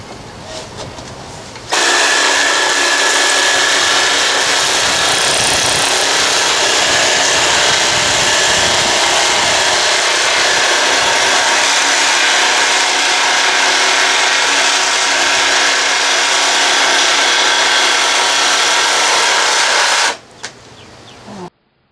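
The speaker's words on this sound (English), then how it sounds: "The circular saw is the best tool for doing the straight lines." Circular saw cutting straight lines through a Nidacore panel for a fiberglass locker front, a loud, harsh continuous whine and rasp held steadily for about eighteen seconds before cutting off abruptly.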